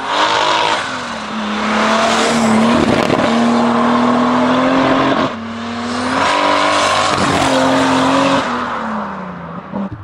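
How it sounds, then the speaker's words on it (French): A tuned Volkswagen Golf with a VTEC engine of about 500 horsepower revs hard and loud up close, two long high-pitched pulls separated by a brief drop in revs, with no talking. "Moteur VTEC, donc ça gueule et ça prend du régime."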